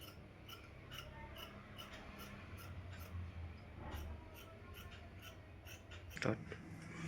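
Scissors cut fabric and lining for a Punjabi dress top in a quiet room, giving faint, repeated crisp snips spread across the clip, with one sharper cut near the end.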